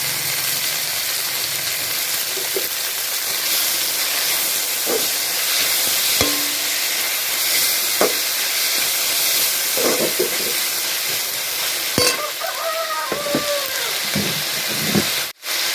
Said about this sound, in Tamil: தக்காளி நல்லா வதக்கி விடுங்க.